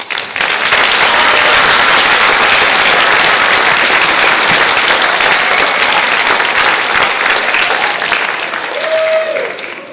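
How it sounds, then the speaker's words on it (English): Sustained, loud audience applause fills a Park Spanish Immersion school event honoring elders' wisdom, a dense, even wash of many hands clapping that carries on for ten seconds before tapering slightly at the end. "would you give us a round of applause?"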